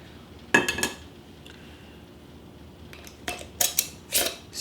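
Metal canning lid set onto the rim of a glass jar filled with applesauce for waterbath canning, a few sharp metallic clinks and taps, close and fairly quiet, spaced apart with brief silences between.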